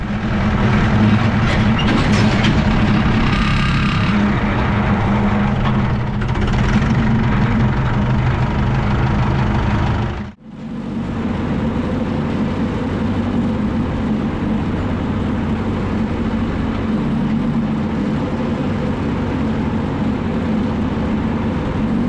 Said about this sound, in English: Now it's time to jump back on the tractor and drive it home again.